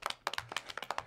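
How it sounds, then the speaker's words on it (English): A small sales-meeting audience claps close by, a brisk, uneven run of sharp, distinct handclaps with no voices over it. "Can I get some applause?"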